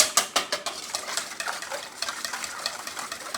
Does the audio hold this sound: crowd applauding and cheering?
no